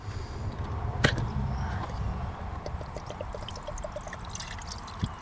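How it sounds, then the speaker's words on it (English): Diesel fuel drains from the filter bowl of a 7.3 Power Stroke into a catch pan, a steady close trickle and patter with a few sharper drips standing out. "And just let that drip, and it'll drip right down there and go right into your catch pan."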